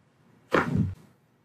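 A single sharp joint pop during a chiropractic adjustment, brief and close in a quiet room.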